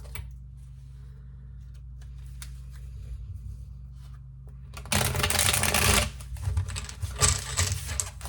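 Quiet handling and soft ticks give way to bursts of brisk tarot card shuffling, the riffling loud and close, coming in short runs.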